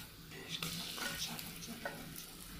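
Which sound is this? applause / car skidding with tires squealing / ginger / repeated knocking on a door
ginger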